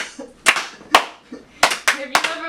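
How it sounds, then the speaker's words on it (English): Slow, deliberate hand claps, five sharp close claps spaced unevenly, with people talking between and under them. "That's slow clap."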